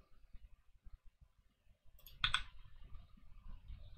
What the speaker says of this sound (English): That's a keyboard click, isn't it, I think.